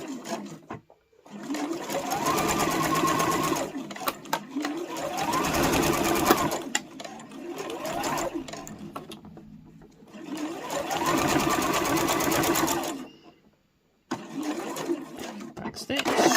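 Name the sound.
sewing machine sewing the side of a pouch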